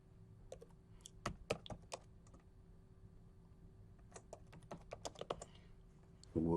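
Computer keyboard typing in bursts as an item is renamed in LabVIEW DAQ software, with two clusters of key taps separated by a pause, close and fairly crisp, with no talking.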